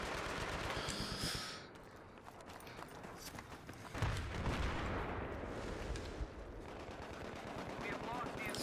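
Battlefield 3 multiplayer gunfire, rifle shots and bursts crackling over a constant busy battlefield din at moderate volume, with a heavier impact around the middle.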